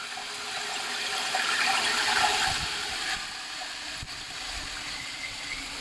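Steady rush of water running into a bucket holding insecticide, with a low hum underneath, continuous and fairly close.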